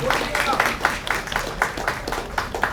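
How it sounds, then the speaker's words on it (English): Audience clapping steadily for a young violinist at a violin arangetram in a concert hall, a sustained wash of hand claps with a few brighter individual claps standing out, no voices. "Can we give a big clap"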